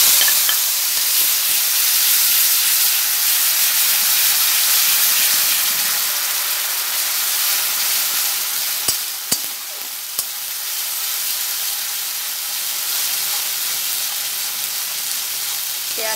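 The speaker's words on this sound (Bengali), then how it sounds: "পেঁয়াজটা দিয়ে দিলাম" Onions frying in hot oil with turmeric and whole garam masala give a loud, continuous sizzle with steady hiss throughout, broken by a few faint clicks midway.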